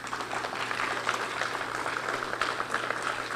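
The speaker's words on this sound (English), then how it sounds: "So let's give them a round of applause" Applause from an audience for high school quiz teams at a Whiz Quiz finals, a moderate, fairly steady clatter of many hands clapping with a faint hum underneath, heard from a middle distance.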